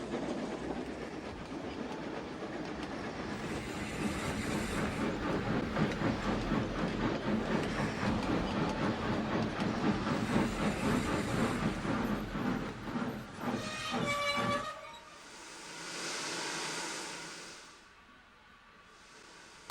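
Henry the steam engine runs past with a loud rolling rumble and clickety-clack of wheels, then the noise drops away and a high whistle blows in two stretches near the end.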